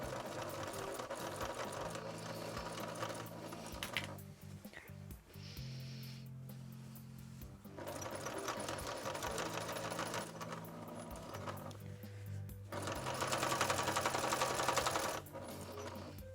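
A sewing machine quilting a coat, running in fast buzzing bursts of stitching with brief pauses between them, close and steady, with some speech in the pauses.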